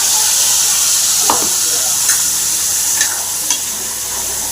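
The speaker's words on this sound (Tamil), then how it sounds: "எண்ணெய் சுட்டிச்சு இப்போ நம்ம இந்த அரைச்சி வச்ச உளுதை சேர்த்துக்கலாம்" Ground urad dal paste sputters in hot oil in a kadai, a steady broad sizzle with a few sharp spoon scrapes and stirring clicks over it.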